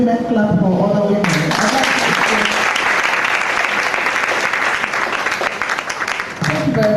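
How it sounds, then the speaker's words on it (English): Audience at a Women in Mining conference in Abuja, Nigeria breaks into loud, sustained clapping. It follows a brief stretch of talk and fills the room for several seconds, then thins toward the end. "I don't like the way women clap for other women."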